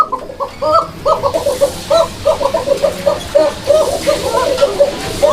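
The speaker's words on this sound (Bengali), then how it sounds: "প্রত্যেকটা কোকাই ডাকে এই যে দেখেন কোকাগুলো কীরকম ডাকতেছে" Danish koka pigeons at a pigeon seller's coop coo in repeated rolling, throaty phrases, several birds close by and fairly loud, with a voice talking over them.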